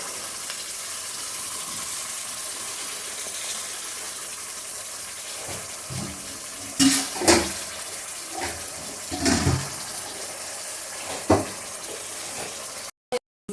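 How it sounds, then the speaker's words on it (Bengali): Tamarind water poured from a bowl into a pan of fish curry, a steady watery gush and sizzle throughout with a few louder splashes and clinks toward the end. "এখন বাটিটা দিয়ে জল দিয়ে দিচ্ছি"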